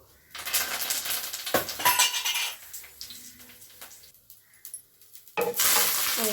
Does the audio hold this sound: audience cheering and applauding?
no